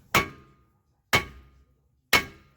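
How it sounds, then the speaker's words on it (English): A sledgehammer strikes a corroded, seized rear brake rotor on a 2014 Kia Sportage three times, each a loud close metallic clang about a second apart, ringing briefly and then fading. "I'm gonna have to spend some time with my sledgehammer"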